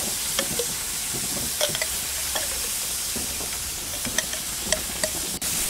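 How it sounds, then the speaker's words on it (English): Curry paste sizzles steadily in a hot pan on a Weber Q grill while a utensil scrapes and taps against it in irregular strokes, close and clear. "Sizzle to release the flavour and cook for 2 minutes."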